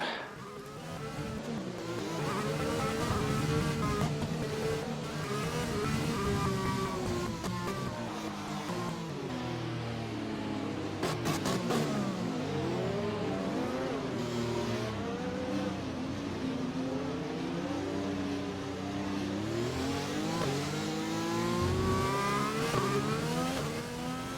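A race car engine in a racing video game on an outlap: a continuous buzzing whine that rises and falls through the gears as the car accelerates, lifts and downshifts, loud and up close throughout.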